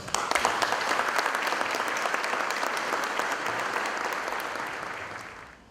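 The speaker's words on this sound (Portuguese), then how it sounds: "uma salva de palmas" Steady applause from an audience at a Lutheran church liturgy seminar in Espírito Santo, Brazil, dense clapping holding for about five seconds before tapering off at the end.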